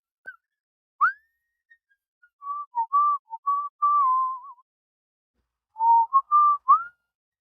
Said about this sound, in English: I don't know if my whistling gets cut off by the noise canceling.